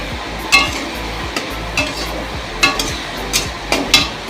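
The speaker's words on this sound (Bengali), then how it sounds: "আর এদিকে আলু আর পেঁয়াজ মশলা কষাচ্ছি।" Potatoes and onions being sautéed with spices in a pan, with a steady low sizzle under repeated spatula scrapes and stirs coming every second or so, close by and moderately loud.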